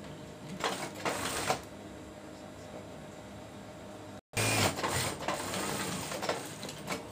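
Sewing machine stitching the corners of a bed sheet, a steady whirring mechanical run broken by a brief pause, then resuming louder with rattling clatter, close by.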